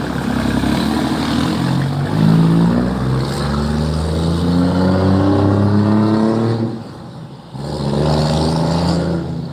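A loud car revs hard through its exhaust pipe, its engine note climbing in pitch through repeated pulls. The roar dips briefly before surging again, close and dominant with no talk.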